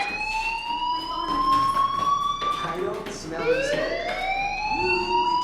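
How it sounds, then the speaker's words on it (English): A fire alarm rings in the video game Life is Strange, a loud sustained wailing electronic tone rising and sliding in pitch, running continuously beneath people talking. "Hey, do you hear that fire alarm? That means you should be outside."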